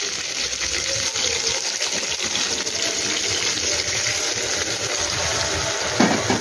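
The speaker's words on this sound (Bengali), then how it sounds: "এখানে আমি 1 কাপের মতন দুধ দিয়ে দিচ্ছি।" About a cup of milk is poured into a pan of vegetarian pointed gourd curry, a steady rushing, sizzling wash that runs evenly for several seconds, close and fairly loud, with no talking.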